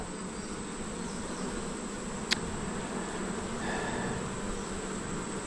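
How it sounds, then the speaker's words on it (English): Honey bees droning steadily around an open hive during an inspection, a constant low buzz that fills the background throughout, with one brief sharp tick partway through. "you really are pretty bees"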